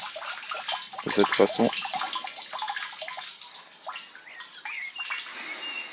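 Rainwater poured from a can splashes and gurgles onto a freshly planted courgette seedling in garden soil, a close burst of pouring followed by softer trickling, with a brief spoken phrase over it.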